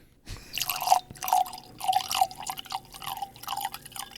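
Wine poured from a bottle into a glass, an uneven burbling flow with several gurgling glugs in close succession, fairly near with no talk.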